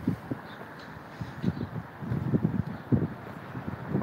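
Low, gusty wind buffets the microphone in uneven bursts, growing rougher toward the end, with no voices.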